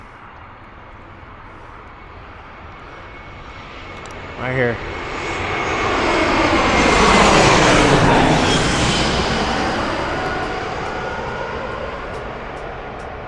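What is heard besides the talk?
airplane landing at San Diego airport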